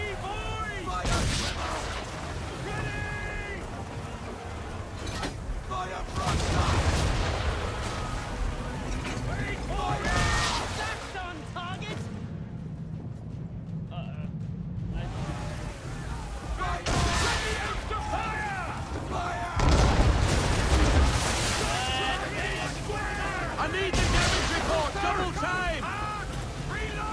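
Musket volleys crack out in Assassin's Creed 3, several ragged bursts of massed gunfire spread over the scene, mixed with battle noise and shouted voices.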